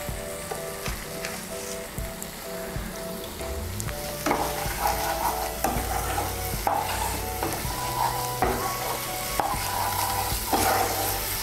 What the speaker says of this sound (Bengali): আলুগুলোকে মশলার সঙ্গে ভালো করে মিশিয়ে নেব